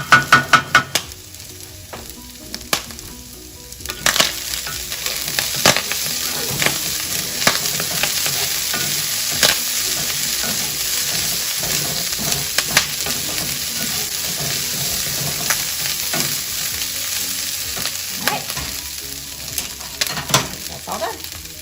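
Corn kernels fry and sizzle steadily in a hot pan while they are stirred, with scraping and clacking strokes and a brief burst of running tap water at the start.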